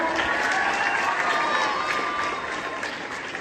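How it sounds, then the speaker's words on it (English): An audience at a school event claps steadily, a dense, full round of applause with some scattered voices, gradually easing off toward the end. "Everyone, please clap."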